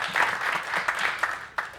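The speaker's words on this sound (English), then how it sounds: "Let's give a round of applause." A conference audience gives a round of applause after a talk on renewable energy for data centers, a steady dense patter of clapping that fades and ends in a few scattered claps.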